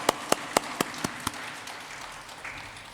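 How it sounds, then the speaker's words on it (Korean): In a church service, a congregation gives encouraging applause for the Eunpyeong choir, opening with six crisp, evenly spaced claps close by that soon fade into a softer, low background. "오늘도 귀한 찬양해 주신 우리 은평찬양단 격려의 박수로"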